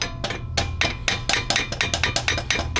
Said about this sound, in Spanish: te aseguras con un martillito